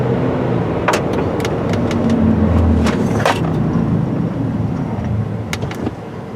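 A car driven up to 40 during a brake test run, steady road and engine noise building throughout with tyre rumble, a few sharp clicks and knocks over the top, no talking.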